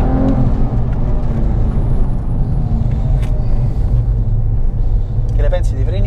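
A Porsche 997 GT3 with a manual gearbox pulls out of a tight hairpin in second gear, its engine a loud, steady low rumble with rising whir, heard from inside the car and joined by a talking voice.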